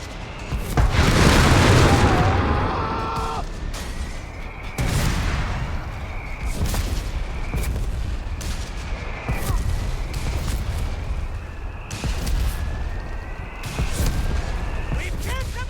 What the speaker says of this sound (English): Requesting barrage! HE! Coordinates to follow!